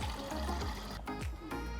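Water runs steadily into a bucket as it is filled to the brim while calibrating a lawn sprayer, a continuous near splashing and trickling rush with brief dips in the flow and no voices.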